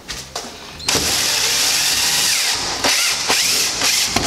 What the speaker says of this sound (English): Now put a few more screws.